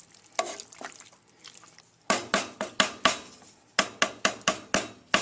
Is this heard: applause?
no